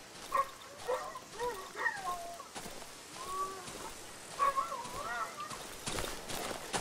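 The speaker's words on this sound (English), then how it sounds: "These are not good dog sounds, I'm just gonna say." Dogs bark, yip and whimper in the survival horror game Darkwood, in irregular bursts at moderate distance against a dark, quiet ambience.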